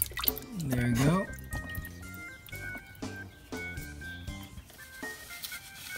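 Transmission fluid drips and trickles as it drains from a 2012 Nissan Versa SV 1.6L CVT, with someone talking throughout over the liquid sound.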